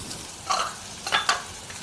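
Onion and green chilli frying in a pan for idli-batter paniyaram, heard as a few short sizzling, stirring bursts that are close and fairly quiet, with no talk.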